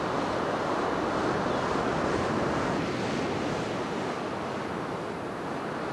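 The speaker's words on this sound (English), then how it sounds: "Waves coming in." Ocean surf washing onto a sandy beach at Cape May, New Jersey, a steady broadband roar of breaking waves with wind noise on the microphone, continuous and fairly loud throughout with no voices.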